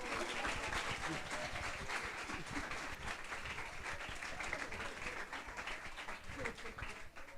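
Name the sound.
audience applause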